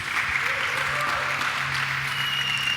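An audience at a live Portuguese-language talk event applauds to welcome arriving guests: a steady, dense wash of many hands clapping throughout, fairly close and even, with faint voices mixed underneath.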